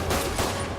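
Gunfire and explosive blasts in the Spider-Man PS4 video game, a dense, loud burst of crackling shots and booms lasting under a second with no talk over it.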